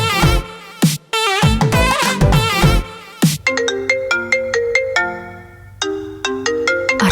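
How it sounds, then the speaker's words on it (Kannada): Mobile phone ringtone for an incoming call, a bright melodic tune of repeating chiming notes, loud and close, playing alone without talk. "ಪರಿ ಫೋನ್ ಮಾಡ್ತಾ ಇದ್ದಾಳೆ, ಗೊತ್ತಾಗ್ಲಿಲ್ವಲ್ಲ."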